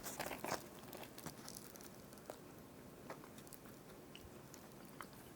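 Someone chews a soft, chewy sweet Korean bread from Paris Baguette, topped with black sesame seeds. Quiet close bites and mouth sounds, a bit louder at the start, then soft, steady chewing.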